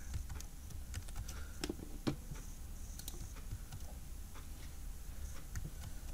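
Typing on a computer keyboard, close and continuous with irregular clusters of sharp key clicks and occasional louder taps over a faint low background hum.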